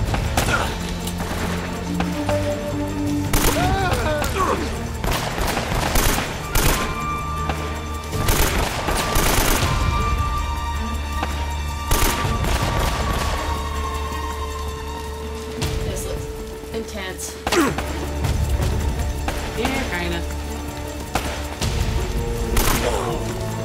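Rapid gunfire bursts and single shots crackle through a video-game gunfight in Uncharted, loud and dense over game music and ambient effects, with repeated volleys across the whole stretch.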